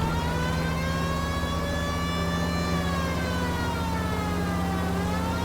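A continuous, loud emergency-vehicle siren from the video game LA Noire wails with a slowly rising and falling tone over an engine drone, with no talking.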